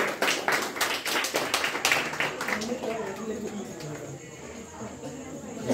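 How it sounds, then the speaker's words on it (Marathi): At a prize-giving for a Ganpati decoration competition, an audience breaks into a burst of close, dense clapping. The applause fades after a few seconds as a voice carries on speaking. "टाळ्या वाजवायच्या."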